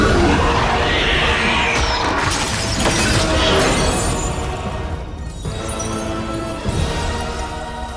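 Glass shatters in a loud, dense crash as the Indoraptor and Blue spin and fall through it in a Jurassic World film, with the debris and roar continuing over several seconds.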